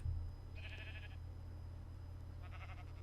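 Sheep in Minecraft give two short bleats, a first near call and a fainter second one, over a low steady hum, with no voices.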